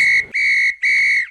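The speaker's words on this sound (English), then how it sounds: "Always wear a whistle around your neck" A safety whistle, worn around the neck for signalling separated hiking companions, sounds three short, loud, shrill blasts in a steady rhythm with brief gaps between them, with no one speaking.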